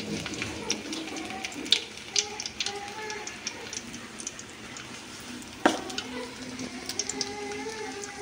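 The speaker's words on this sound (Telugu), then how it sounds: "చారు తాలింపు," Garlic sizzles in hot oil for a rasam tempering: a steady, close frying hiss broken by sharp clinks and scrapes of a utensil stirring the pan.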